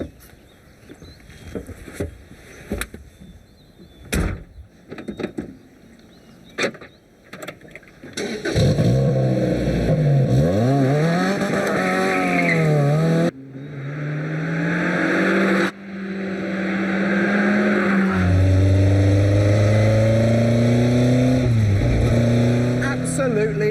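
A Lotus sports car on a road test. After a stretch of talk and scattered clicks, the engine starts pulling hard and close, rising and falling through revs and gear changes, with a short lift before it accelerates again.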